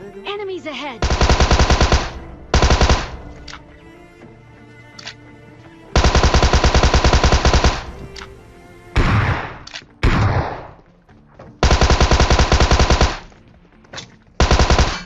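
A Tommy gun in a shooter video game fires loud, rapid full-auto bursts, several separated by short pauses, with quieter game sounds filling the gaps between bursts.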